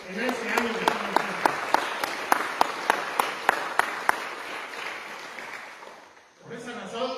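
Audience applause at a school end-of-year closing ceremony for third-grade groups, a crowd clapping steadily for several seconds with sharp individual claps standing out, fading near the end before a voice resumes.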